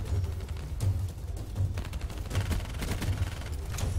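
Gunfire in the video game Black Ops 3, a steady stream of repeated shots and bursts at close range with no talking.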